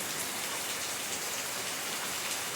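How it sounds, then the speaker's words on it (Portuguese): Heavy rain falls steadily at dawn, a dense, even hiss of drops spread across the whole stretch with no gaps and no voices. "Muita chuva mesmo agora de manhã."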